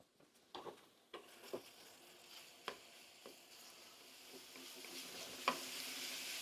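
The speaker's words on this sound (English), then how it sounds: "let's toss the bacon in there. It still got some beef tallow in there" Bacon tossed into a pan with leftover beef tallow, a soft sizzle building to a steady fry, broken by occasional sharp clacks and taps of utensils, quiet and close with no talking.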